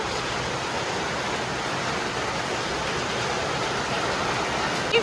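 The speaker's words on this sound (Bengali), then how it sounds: "দেখো কি পরিমাণ বৃষ্টি হচ্ছে, আমরা এই যে সবাই আটকা পড়ে গেছি বৃষ্টিতে।" Heavy rain pours in a constant, dense hiss that stays loud and unbroken throughout, with no talking.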